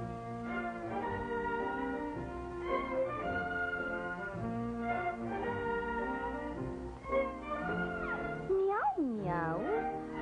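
A song about two cats, a black one and a white one, with sung meows and catlike vocal glides woven into the melody over a steady instrumental backing; the voice imitates the meowing rather than real cats being heard.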